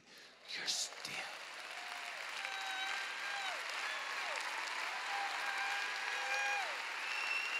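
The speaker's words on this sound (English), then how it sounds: "Come on and clap your hands like you're still standing." Congregation applause at a healing conference service, a broad, sustained crowd clapping with cheering, while a voice calls out over it and high sustained tones sound through.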